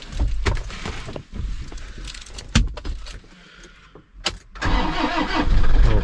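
A motorbike engine cranks and fires up on a cold morning in Srinagar, Kashmir, with clattering starter bursts before the engine catches and settles into a steady, close idle with no one talking.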